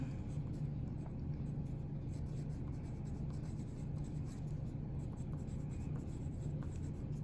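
Pencil writing on paper while solving physics equations, a steady faint scratching and rubbing heard continuously and close, alone under a low background rumble.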